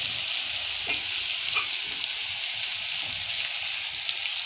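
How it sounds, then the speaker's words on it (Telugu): Meal maker soya chunks fry in a pan while being stirred, giving a steady close sizzle with occasional scraping strokes of the spoon and no voices. "చూడండి నేను తిప్పుతున్నాను"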